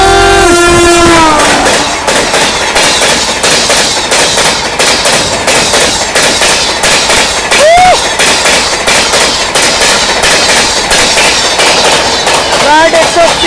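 12301 Howrah–New Delhi Rajdhani Express overtaking at speed on an adjacent track, its horn blaring in long blasts at the start, then a loud, steady roar of coaches with rhythmic wheel clatter and a few more short horn toots.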